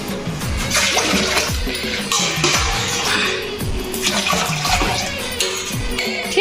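Water gushes steadily into a bucket in a home kitchen, ready for washing beans, a loud continuous splashing rush that runs the whole time, with faint clatter underneath.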